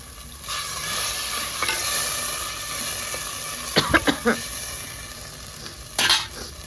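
Sliced onions frying for a spicy sev-onion curry on a stove fire: a steady broadband sizzle runs throughout, with a cluster of sharp stirring clatters in the middle and another near the end. No talking.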